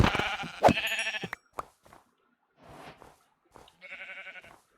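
Sheep bleating in the Minecraft video game: several short, nasal, wavering bleats, a loud one at the start and further ones later, separated by quiet gaps.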